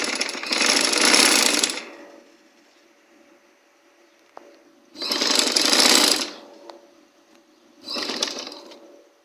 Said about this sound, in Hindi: अब हमने दूसरी साइड पे भी स्टिच कर लेने हैं इस तरीके से, दोनों दूसरी तरफ से भी।